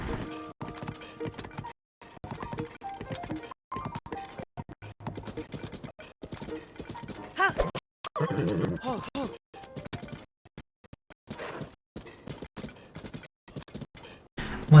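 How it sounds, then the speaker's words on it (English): A horse in Tears of the Kingdom gallops and whinnies while being ridden up a mountainside, with hoof clip-clops coming in choppy bursts and a person talking intermittently over the game sounds. "Once again, mountains are no match for horses."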